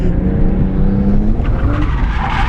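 A Nissan Skyline drifting with clutch-kick entries, its engine roaring steadily near and loud with tire squeal rising through the pass, continuous for the whole stretch.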